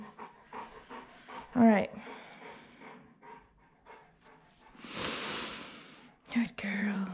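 A large St. Bernard dog pants in short, breathy bursts during a bath, close and fairly quiet, with someone speaking softly and soothingly over and between the breaths.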